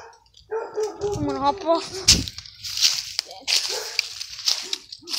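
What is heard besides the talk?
dogs barking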